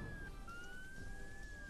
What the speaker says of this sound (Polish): Nie, wyłącz syreny, bo nas będzie zagłuszać.